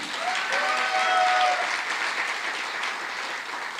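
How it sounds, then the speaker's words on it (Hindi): Sustained applause fills a business meeting hall as an audience claps loudly for a success support system, a steady dense roar of hands with no talk over it. "तो एक बार सिस्टम के लिए जोरदार तालियां हो जाएं।"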